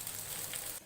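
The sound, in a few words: chopped garlic frying in pan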